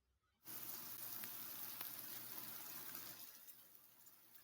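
Chopped onion dropped into hot oil with a bay leaf for veg pulao sets off a sudden steady sizzle that holds strong, then eases slightly toward the end, close and alone.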